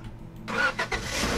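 A beige car's engine turns over and catches in Roblox Lumber Tycoon 2, a short loud starter burst then a rising idle, heard alone and close.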